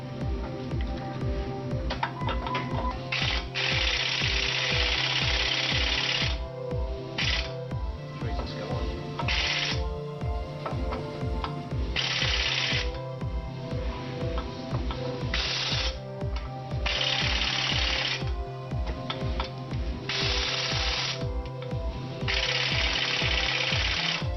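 A ratchet tool turns a bolt during a 2.5-inch budget boost lift kit install on a 2007 Jeep Wrangler JK Unlimited, giving a fast, rhythmic train of close metallic clicks with brief louder bursts throughout.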